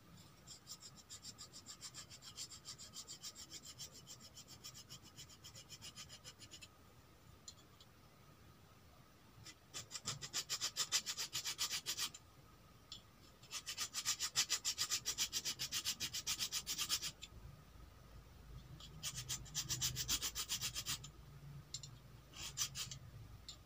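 A hand file rasps against a Vespa clutch part in steady back-and-forth strokes, close and gritty, coming in bursts separated by short pauses, with no talking.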